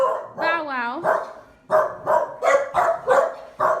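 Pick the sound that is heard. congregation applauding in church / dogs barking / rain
dogs barking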